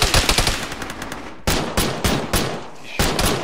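Arma 3 gunfire crackles in rapid bursts of close, sharp shots, with several separate volleys of automatic fire.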